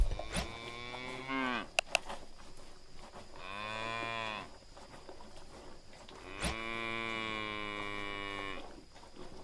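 Cattle moo in three long, loud calls separated by short pauses, close by with no speech, on a farm supplying Indonesian breeds such as Bali, Limousin, Simmental, Ongole and PO cattle.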